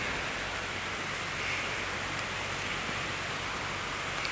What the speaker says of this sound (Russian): Вот, дождик начался.